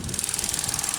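A 1.6 liter Sigma four-cylinder engine in a 2015 Ford Fiesta runs steadily with a fast, even ticking pulse and a high whine, heard close and moderately loud on its own.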